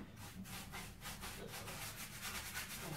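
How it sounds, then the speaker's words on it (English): A brush works wax over a cast iron bollard mould, giving a soft, steady rasping scrub with repeated strokes, close and fairly quiet. "I'm just going to give this a coat of gram wax."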